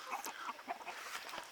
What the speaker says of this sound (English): See, look, this guy here, he's a little rooster.